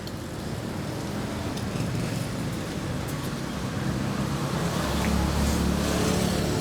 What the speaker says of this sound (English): on the street, the driving motorbikes and cars are driving much slower.